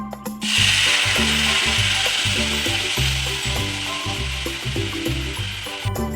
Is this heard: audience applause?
no